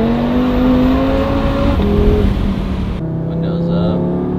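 A 2019-style Audi RS3 fitted with a 034 Motorsport exhaust accelerates hard from inside the cabin. A loud, steady engine drone climbs in pitch, dips briefly at a gear change, then keeps pulling with a deep exhaust note.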